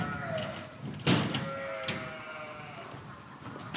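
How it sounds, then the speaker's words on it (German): Sheep in a livestock tent at a farm fair bleat at close range, with a loud cry near the start and a fainter one later, over a busy background murmur with a brief knock. "Schafe blöken."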